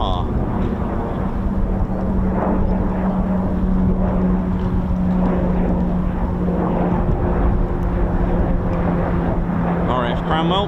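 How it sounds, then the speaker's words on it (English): A Grob Prefect training aircraft passes by, its engine a steady droning hum that holds throughout at an RAF airfield, with someone talking continuously over it. "speaking of training aircraft, here comes a Prefect"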